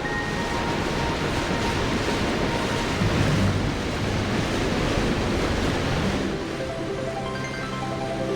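Water rushes and roars at Iguazu Falls on the Argentina–Brazil border in a constant, broad wash of noise, loud and unbroken.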